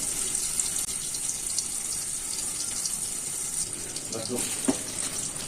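Hidol fish being washed with hot water in a home kitchen, a steady close rush of running water from a tap with a few brief splashes and clinks, while a person talks over it.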